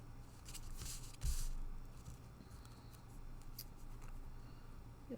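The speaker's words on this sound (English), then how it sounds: "I'm just going to cut this edge down here" Scissors snipping along the edge of gilded leafing material, a few quiet close crisp cuts with one louder snip, faint and alone with no talk.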